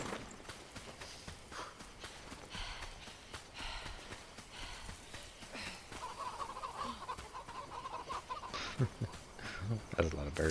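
Chickens clucking in the video game Enshrouded, a steady stream of soft clucks and scratchy bird calls with scattered footstep-like taps, moderately close amid busy background noise.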